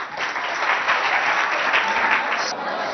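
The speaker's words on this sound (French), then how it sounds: "sous vos acclamations s'il vous plaît" A school audience applauds and cheers at a game show pitting CEG Bilingue Mongo against Oscar Romero before an arm-wrestling round. Dense, continuous clapping stays loud and even throughout, with crowd noise mixed in.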